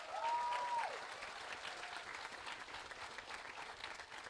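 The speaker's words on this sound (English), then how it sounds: "How about a round of applause?" An audience at a graduation ceremony applauds, with steady dense clapping from a large crowd in a hall that carries on evenly throughout, a brief tonal sound rising above it at the start.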